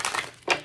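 Tarot cards shuffled quickly by hand, giving two short crisp bursts of riffling card noise a moment apart, close and fairly quiet with no talking.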